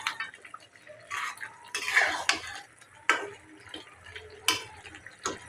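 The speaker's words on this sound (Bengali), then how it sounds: "মাংসটা একটু নেড়ে চেড়ে দেবো।" Duck meat is stirred in a pot with a utensil in several quiet scraping and clinking strokes, close by and spaced irregularly, with no talk over it.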